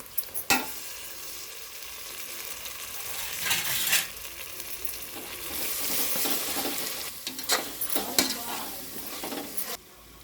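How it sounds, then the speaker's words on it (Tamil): Onions with ginger-garlic paste sauté in a pan for vegetable biryani, a steady frying sizzle with stirring scrapes and occasional utensil clinks throughout, fairly close and without talk. "நல்லா அந்த கலர் நல்லா கோல்டு கலரில் வர மாதிரி நல்லா வதக்கி விட்டுக்கோங்க"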